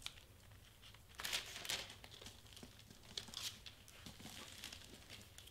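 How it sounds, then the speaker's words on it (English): Faux snow is spread over wrapping paper for a gift wrap, giving soft close crinkling and rustling with a couple of louder crunchy bursts, no talking. "I'm putting the snow down so it will stay there."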